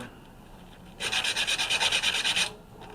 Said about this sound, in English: this is 220 sandpaper, and I'm just doing the edges of the copper,